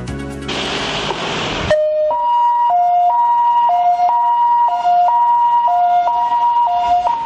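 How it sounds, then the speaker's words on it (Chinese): An ambulance in Pingtung City, Taiwan wails with a loud, close two-tone siren that alternates steadily between high and low pitches after a short burst of broadband rushing noise. "救护车进进出出"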